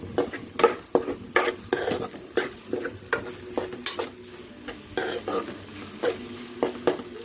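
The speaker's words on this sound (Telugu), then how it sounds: "కొంచెం తిప్పుకొని" A ridge gourd and prawn curry stirred in a pan, a rhythmic series of near spatula scrapes and knocks against the metal over a soft low simmer.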